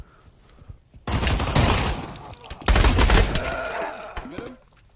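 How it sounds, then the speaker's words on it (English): Bursts of video game gunfire erupt during an in-game shootout, two dense loud volleys around one and three seconds in, with rattling echoes trailing between them and a voice briefly audible. "someone tried to shoot at us"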